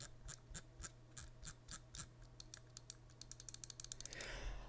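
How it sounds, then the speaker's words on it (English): Scroll wheel of a Zaunkoenig M2K computer mouse, ultralight, rolling through a run of crisp ratcheting clicks that start spaced and speed up into quick close ticks, alone in a quiet room. "Scroll wheel."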